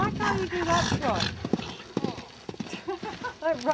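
Rhythmic clip-clop of horse hooves trotting close by, with someone talking over it and a brief whinny-like call.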